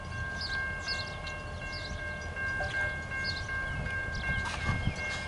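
A loaded train rolls along the tracks at the end of a residential street, heading south with a steady low rumble, and sustained horn tones sound clearly over it for most of the passage.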